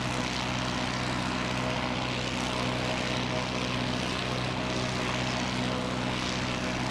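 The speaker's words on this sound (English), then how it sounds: "A320 just a couple of moments away. It's a 537 from Auckland, just making its final turn." An Airbus A320 arriving from Auckland makes its final turn toward Christchurch Airport, its engines giving a steady, continuous drone with a low hum and no talk.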